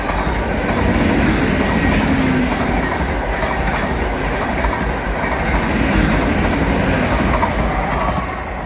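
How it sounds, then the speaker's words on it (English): A train rolls past nearby at Teignmouth with continuous rumbling, rhythmic clickety-clack of wheels on rails, and faint high squeals of metal, loud and steady throughout. "But also from memory I can hear a train."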